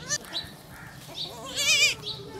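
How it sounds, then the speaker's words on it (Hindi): A pregnant goat on a home farm gives several short bleats, with a loud wavering cry near the end, close by and mostly alone with faint background noise. "ये हमारी बकरी उम्मीद से थी,"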